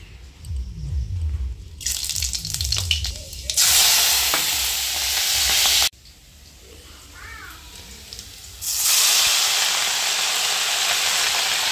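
Oil sizzles in a hot wok with loud, hissing surges that flare up, cut off abruptly and return, with spattering crackle and some clattering before the first burst.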